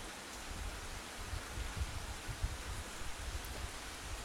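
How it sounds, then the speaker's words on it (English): Steady rain pouring down outdoors, a soft, even hiss of falling water with faint low patters, quiet and continuous with no voices. "the rain keeps freaking pouring, and I don't understand it. It just keeps pouring."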